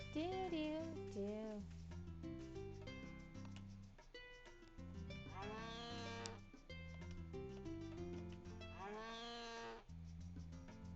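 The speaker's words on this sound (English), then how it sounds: "Why are you mooing at me?" A cartoonish cow moo from the farming video game Harvest Moon sounds a few times over cheerful looping game music, each call a short swooping tone.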